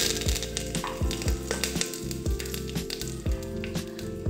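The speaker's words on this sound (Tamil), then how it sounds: "ஆயில் சூடானதும் அதில் கடுகு சேர்த்துக்கலாம். கொஞ்சம் போல் கருவேப்பிலை சேர்த்துக்கலாம்." Mustard seeds and curry leaves crackle in hot oil while tempering for thuthuvalai rasam, a close, busy sizzle with repeated sharp pops over a steady low hum.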